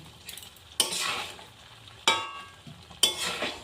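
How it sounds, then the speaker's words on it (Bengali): Spoon stirring ground spice powder into raw mango pickle cooking in a pot, three distinct scraping strokes close up over a faint sizzle, with no voices. "মশলাটা ভালোভাবে মিশিয়ে দিচ্ছি।"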